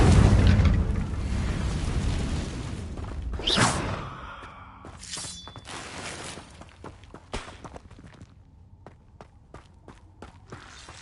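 A Confringo spell blasts in Hogwarts Legacy, opening with a loud, roaring explosion that swells and fades, followed by scattered sharp pops, cracks and debris clatters that thin out toward quiet.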